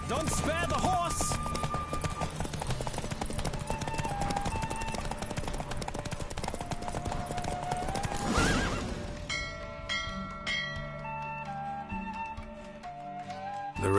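Hooves gallop in a fast, driving rhythm under music during a horse race in The Witcher, a horse whinnies loudly midway, then the pounding fades out as the music continues.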